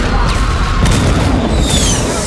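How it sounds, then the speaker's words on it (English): Fireworks bursting in the video game Saints Row IV, a dense run of loud, rumbling booms and crackles with whistling streaks, continuous and close throughout. "They're fireworks."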